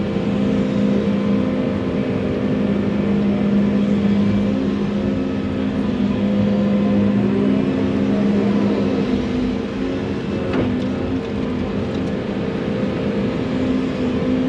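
Bulldozer engine working on a farm while pushing dirt, a loud steady diesel rumble that holds throughout with slight shifts in pitch and no talk.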